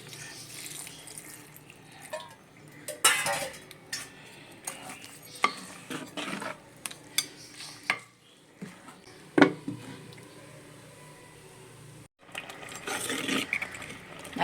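Cooked amaranth greens and dal are churned in a pot with a wooden masher, giving irregular bursts of wet mashing, scraping and clinks against the pot with short pauses between.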